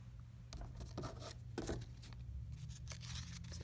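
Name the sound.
scissors cutting paper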